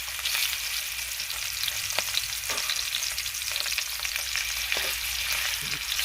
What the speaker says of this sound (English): Just let it sear a few minutes on one side and then turn it over.